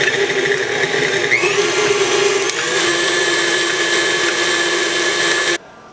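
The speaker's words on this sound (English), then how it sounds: "I'm going to mix all this up before I start adding the powdered sugar" An electric mixer whirs steadily and loudly, beating softened cream cheese with a stick of butter for strawberry cream cheese icing, holding a constant drone with a slight pitch shift before cutting off abruptly near the end.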